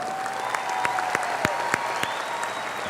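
Sustained applause from a high school graduation ceremony crowd, dense and even with sharper claps scattered through it, for students being recognized.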